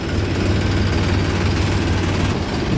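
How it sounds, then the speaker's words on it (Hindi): A truck engine rumbles steadily as it backs up near a sugarcane field, a loud continuous low drone with a constant hum and no voices. "यहाँ ट्रक बैक हो रहा है"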